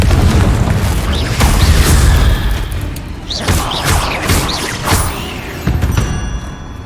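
A Confringo blasting spell explodes in the Hogwarts Legacy video game, a loud booming blast followed by rumbling debris and a few smaller thuds and pops as it dies away.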